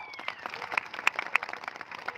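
A crowd clapping at the birth festival of Sant Balumama in Adamapur, a dense patter of many hands, moderately loud, with occasional sharper claps and a voice faintly underneath.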